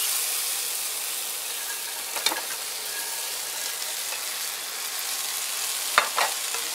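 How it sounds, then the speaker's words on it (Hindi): Veg crispy starter being stirred in a pan with tomato sauce, soy sauce and chilli powder, a steady close sizzle and hiss with a few scraping stir strokes; no talk. "अब हम इसे अच्छे से मिक्स कर लेते हैं।"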